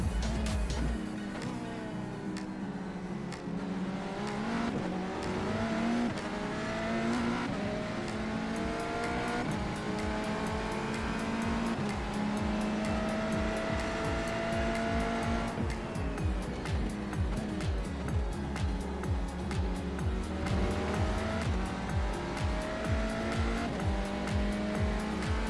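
A race car in a racing video game on an out lap, engine revs climbing and dropping through gear changes in a steady drone, with tire squeal and rapid rhythmic pulsing, heard alone and fairly loud.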